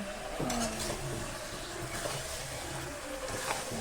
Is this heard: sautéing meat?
yes